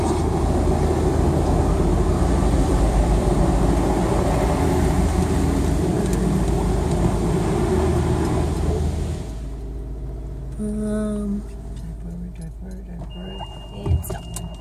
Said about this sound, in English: It's time for the car wash.